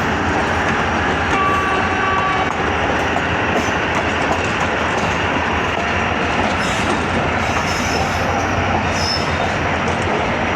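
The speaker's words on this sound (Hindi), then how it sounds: "दोनों ट्रेन्स एक साथ एंटर हो रही हैं हैदराबाद जंक्शन।" Two trains roll into Hyderabad Junction together, giving a steady, loud rumble of wheels on rails with rhythmic clatter and occasional high squeals from the wheels, heard up close without talk.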